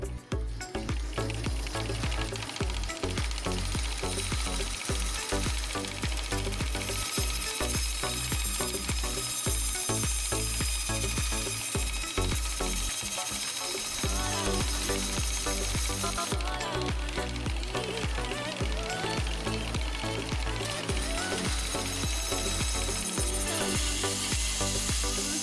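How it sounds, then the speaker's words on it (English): A bandsaw trims excess resin and wood from a ring blank, a continuous loud whine with rough cutting rasps and brief dips as the piece is fed, close by throughout. "back to the bandsaw. We're going to just trim off some of the excess material here"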